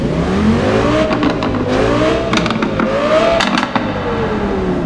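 An Audi engine with a modified popping exhaust revs continuously in Euro Truck Simulator 2, pitch rising and falling in smooth sweeps, loud and close with a synthetic, game-like steadiness and no talking.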